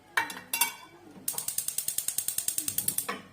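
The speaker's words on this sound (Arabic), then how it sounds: "صافي دابا غادي نشعلو ليها البوطه" A butane gas stove burner is lit with a few single ratcheting clicks, then a fast, even run of about twenty crisp ticks from the igniter, close and alone.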